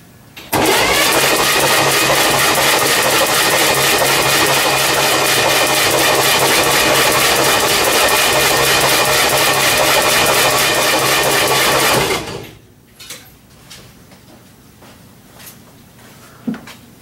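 Chevrolet Corvair six-cylinder engine cranking over on the starter during a compression test on cylinder two, a loud steady churning drone for about twelve seconds that stops abruptly, followed by faint clicks and handling noises.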